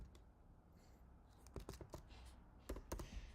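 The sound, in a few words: typing on a computer keyboard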